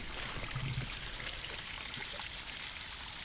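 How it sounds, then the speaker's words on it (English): A small one-foot waterfall pours in a steady, close, continuous rush of splashing water outdoors among fall woods in Tennessee, with no voices. "Here's a cool little waterfall."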